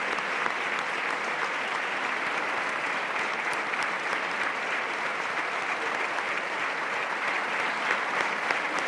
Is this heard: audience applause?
yes